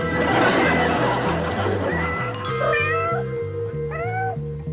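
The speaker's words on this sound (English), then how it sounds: "How come you're going along the pussycat?" A cat meows in a sitcom scene, several rising meows over a steady bouncing music track and a laughing audience.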